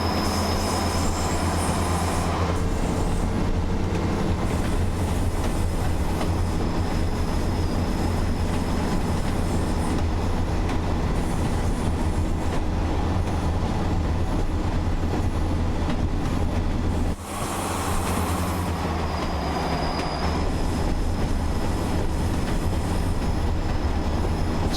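A railtour train on the Northern Trans Pennine line runs steadily on the rails, its loud continuous rumble and wheel noise filling the whole stretch, with a brief dip in the roar partway through.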